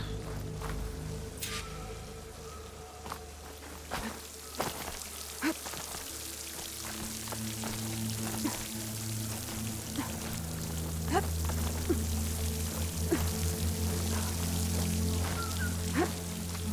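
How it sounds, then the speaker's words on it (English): Water streams and pours into a wall in the video game Horizon Forbidden West, a steady flowing wash with scattered drips and splashes, moderately loud over a low ambient hum. "Water's flowing into the wall."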